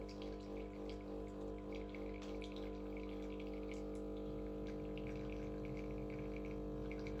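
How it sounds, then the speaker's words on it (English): A Breville Barista Express BES870 espresso machine brews a shot with a slow-flowing, over-fine grind, its pump humming steadily and loudly under a thin trickle of coffee. "coffee is flowing a bit slower than expected."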